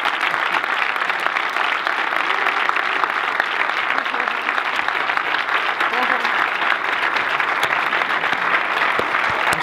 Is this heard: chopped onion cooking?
no